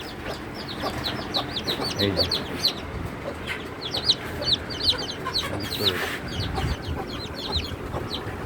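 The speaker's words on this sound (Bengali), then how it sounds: "মুরগিটা বেরোয় যাবে" A hill naked-neck hen clucks close by while newly hatched chicks peep in quick, repeated high chirps, with a voice briefly speaking.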